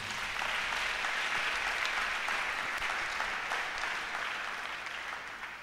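A church congregation breaks into sustained, dense applause, a broad wash of clapping hands filling the room without letting up.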